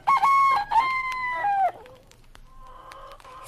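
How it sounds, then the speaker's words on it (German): A rooster crows loudly and close in a henhouse, followed by softer clucking from the chickens. "Ihrer Hühner sind es 3 und ein stolzer Hahn dabei."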